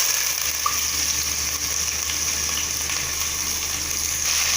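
Onion, vadagam and curry leaves frying in hot oil, a steady bright sizzle that holds evenly throughout, close and fairly loud with no talking.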